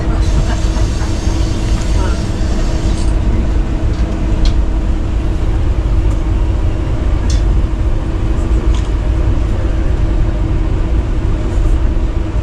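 Onboard the Rocky Mountaineer passenger train running from Kamloops to Vancouver, a loud, steady rumble and rattle of the rail cars continues throughout, with occasional sharp clanks and squeals.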